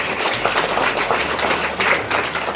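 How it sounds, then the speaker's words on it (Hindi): An Independence Day gathering at a government higher secondary school applauds a student, giving steady, dense clapping from many hands that carries on for the whole stretch, with no voices on top. "एक बार जोरदार तालियां रक्षित के लिए।"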